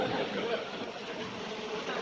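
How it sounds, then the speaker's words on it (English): A faint, continuous buzzing hum like a swarm of bees, low and steady, with a slightly wavering drone. "Listen to the buzzing of their merry little wings."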